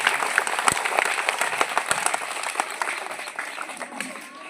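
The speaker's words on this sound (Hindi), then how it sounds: "मैं चाहूंगा कि मैम के लिए भी एक बार जोरदार ताली" A crowd at a Swachh Bharat cleanliness programme applauds, many hands clapping in a busy, fairly loud patter that gradually thins out.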